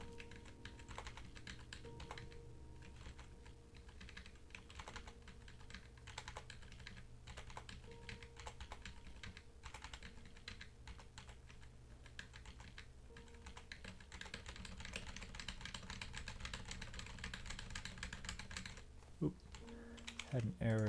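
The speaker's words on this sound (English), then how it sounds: "my speed typing is not as good as it used to be" Fast typing on a computer keyboard, a dense, continuous stream of close clicks and key taps running throughout without pause.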